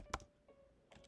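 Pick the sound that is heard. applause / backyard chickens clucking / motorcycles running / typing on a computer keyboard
typing on a computer keyboard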